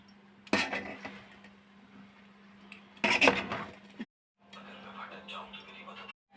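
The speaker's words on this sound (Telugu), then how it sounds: "రైస్ ఉడికిపోయింది వేసి కలుపుతున్నాను" Cooked rice is stirred into chicken biryani in a pot, with bursts of metallic clinking and scraping over a steady low hum and a brief silent gap between stirs.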